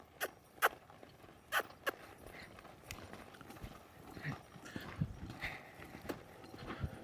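A horse loping in an arena during a flying lead change lesson, its hoofbeats landing in a quick three-beat rhythm of sharp, close thuds, with faint rustling between strides and no talking over it.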